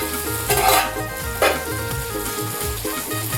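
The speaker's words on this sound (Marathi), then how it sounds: "आणि तिकडं बोंबील तर बघू शकता, इकडं बांगडा पण फ्राय होतोय." Bombil and bangda mackerel fry in a pan, giving a constant dense sizzle with a couple of louder hissing flare-ups, close and alone without talk over a low background hum.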